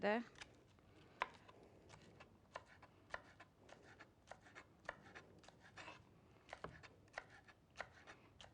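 Knife chopping bell pepper on a cutting board in a cooking show, a quiet, steady series of sharp taps at an uneven rhythm, close by.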